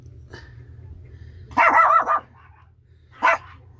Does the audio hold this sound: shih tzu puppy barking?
yes